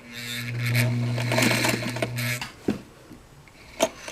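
A model 237 sewing machine stitching through thick layers of a dog harness and denim gives a steady humming whir for over two seconds, then stops, followed by a few separate knocks and clunks.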